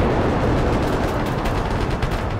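Sustained, dense gunfire from a trench assault video game, rapid overlapping shots and bursts filling the whole stretch at a steady loud level with no pauses.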